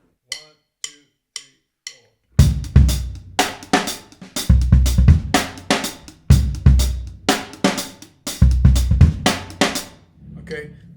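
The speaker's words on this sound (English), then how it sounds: "You can do it with just a hi-hat like this" A drum groove played on hi-hat alone opens with four sparse, evenly spaced counting ticks, then settles into a steady, loud pattern of crisp strokes with regular accents.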